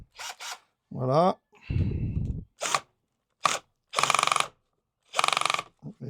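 Several short ratcheting and rasping bursts come from a screw being loosened and adjusted on a Navimow i210 robot lawn mower, heard close with pauses between them, and a voice speaks briefly.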